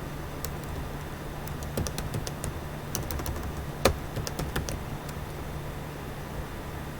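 Computer keyboard keys tapped over and over in a rapid, uneven burst of light clicks against a steady background hum, enough presses to trigger sticky keys, with no one talking.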